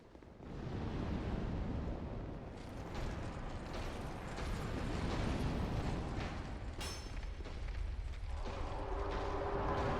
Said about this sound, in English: I didn't think he was going to do sword explosion, so I went in for the kill.